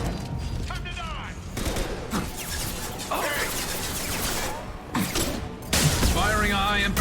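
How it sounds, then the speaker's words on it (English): High-impact weapon shots in Mass Effect 2, several punchy bursts and crashes in a busy firefight, loud and close, with voices talking over the combat. "Firing a high-impact shot."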